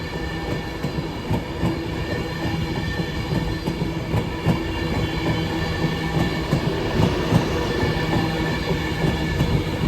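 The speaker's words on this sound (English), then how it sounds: "First service arriving is an AVANTI West Coast service 146 off to London Euston from Glasgow Central." An Avanti West Coast train from Glasgow Central to London Euston arrives at Carlisle station, a loud, steady rumble of wheels and engine with rhythmic rail clicks and faint squealing, rising slightly as it draws in.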